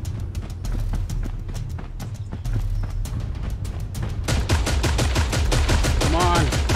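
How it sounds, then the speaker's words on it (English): Rapid bursts of gunfire in the video game Creative Destruction, dense and repetitive shots that grow louder and faster toward the end, with some talking in the background. "I'm getting shot from every angle"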